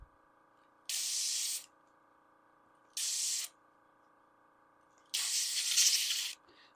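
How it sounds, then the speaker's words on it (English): Three separate bursts of airbrush spray hiss while priming a miniature, the last one longest and loudest, with quiet gaps between them. "Spraying the nozzle."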